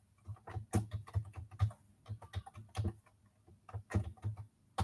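Computer keyboard typing in irregular bursts of close, crisp key clicks with short pauses between, no voices.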